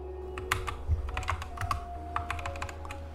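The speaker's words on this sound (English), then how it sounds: "So you press and hold Fn and then type T" Keys clacking on an Epomaker SK61 mechanical keyboard, a run of sharp, irregular close-up key presses over a low steady hum, with no talking.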